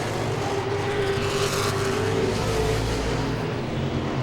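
Modified race cars roar around Langley Speedway, a loud continuous engine drone with a car sweeping past and its pitch shifting as it goes by, in an outdoor oval track setting.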